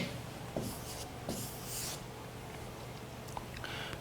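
Writing on a board or paper gives faint, scratchy strokes in short bursts over a steady background hum, quiet and close, with no voices.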